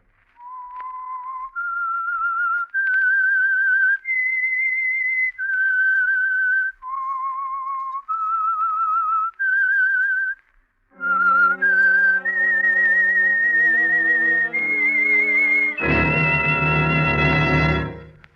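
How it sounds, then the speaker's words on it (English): Whistled signal tune of The Whistler radio mystery program: a clear, lone whistled melody of sustained notes, joined near the end by an orchestral passage that builds to a loud chord. "That whistle is your signal for the Signal Oil Program, The Whistler."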